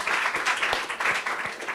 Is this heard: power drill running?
no